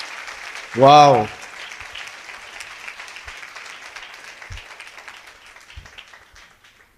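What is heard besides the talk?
audience applause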